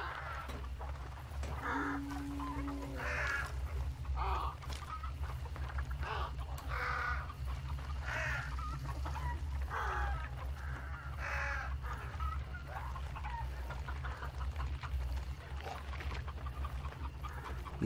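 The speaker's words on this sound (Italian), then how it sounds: "se vado qua e faccio casino, ci sono le galline" Chickens cluck and squawk in the Hunt: Showdown video game, with repeated bird calls over a steady low ambient hum. Someone speaks at a moderate distance.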